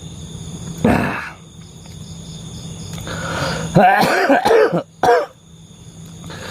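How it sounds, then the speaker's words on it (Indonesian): A few harsh coughs, one early and a cluster later, over a steady background hum of insects; near and fairly loud. "batuk-batuk begini."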